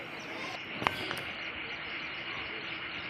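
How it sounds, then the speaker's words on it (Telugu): Steady insect-like chirping and croaking of frogs at night after heavy rain near a village stream, a continuous dense chorus with a couple of brief sharper calls standing out early on. "ఆ సౌండ్ వినండి. అసలు కప్పల సౌండ్ ఎలా వస్తున్నాయి చూడండి."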